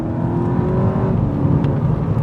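A VW Golf GTi engine drones steadily while driving, loud and close, with a smooth continuous tone from inside the car.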